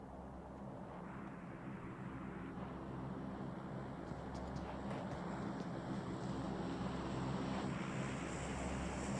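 An airplane drones in a PUBG Mobile match as a steady low engine hum with a faint whooshing layer, holding even and building slightly over several seconds.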